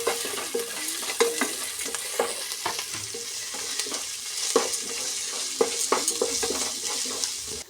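Coriander leaves sauté in a pan while cooking curd rice: a soft, steady sizzle runs underneath as a utensil stirs and scrapes in irregular strokes, with occasional sharper clinks against the pan.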